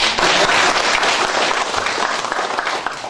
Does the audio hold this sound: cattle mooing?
no